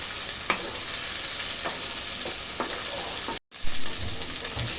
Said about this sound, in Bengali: এই যে আদা রসুনটা ভাজা হয়ে গিয়েছে।